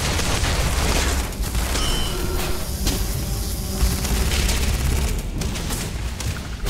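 A mining turret fires steady, heavy gunfire with booming impacts inside a crystal cavern in modded Starfield, the rounds close and loud and running almost without pause.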